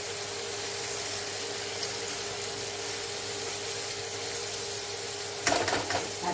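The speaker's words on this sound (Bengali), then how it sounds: "আলু আর ডাল আমি একসঙ্গেই ভাজবো। গ্যাসটাকে আমি জোরে করে দেবো" Potato and mung dal fry together in a pan over high heat, a steady close sizzle with a low hum underneath, then a short burst of stirring clatter near the end.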